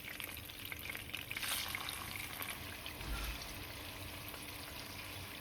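Katla fish pieces fry in hot oil in a pan, producing a steady crackling sizzle with brief louder spits, fairly quiet overall and without any speech.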